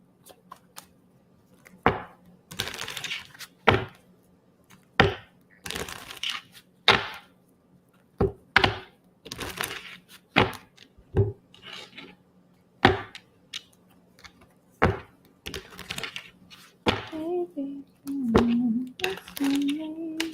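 Tarot cards are shuffled by hand, giving crisp, separate snaps and taps at an irregular pace, close and fairly loud, with a voice speaking briefly near the end.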